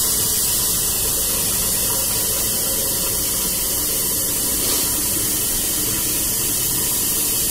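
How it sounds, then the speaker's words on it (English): Cold water rushes steadily from a tap into a pot for home-brewed beer, a loud, continuous hiss that stays even throughout, with no voices. "I'm going to put a nice cold water in the pot."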